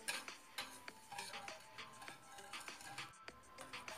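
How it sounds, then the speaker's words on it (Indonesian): A spoon scraping and stirring inside a large pot of milk heating toward a boil, with soft rhythmic scrapes and light clinks, faint and close, with no talk. "Pokoknya aduk terus, jangan sampai bagian bawahnya gosong ya."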